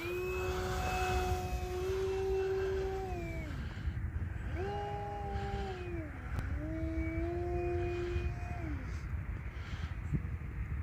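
Electric motor of a repaired RC Sbach aerobatic plane in flight, a loud steady whine that rises and falls in pitch as the throttle changes, with wind noise underneath.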